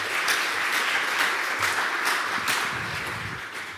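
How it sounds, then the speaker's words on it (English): An audience at a digital health closing event applauds the panelists, continuous dense clapping that holds steady and then tapers slightly toward the end. "let's give applause to our panelists"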